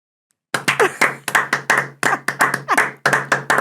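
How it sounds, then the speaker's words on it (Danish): A small group of people clapping their hands during a podcast recording, a sudden close burst of sharp, quick claps that rises and falls in short waves for about three seconds, with no talk over it. "Skal vi klappe?"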